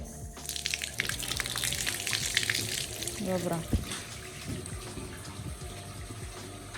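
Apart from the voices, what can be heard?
water running from tap, filling up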